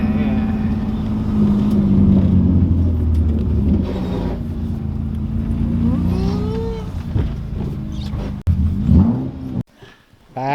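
A BMW E36 with a newly fitted full exhaust rumbles loudly nearby, revving up and down with rising and falling pitch sweeps before cutting off near the end.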